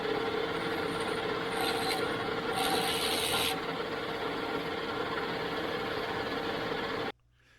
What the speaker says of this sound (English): Gonna deburr it.